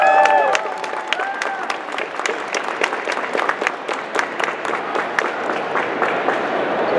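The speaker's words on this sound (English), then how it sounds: "please give him a very warm round of applause" An audience at an anime event in New York City applauds the consul of the Consulate General of Japan: a sustained round of many hands clapping, steady and fairly close, with a faint tonal sound at the start.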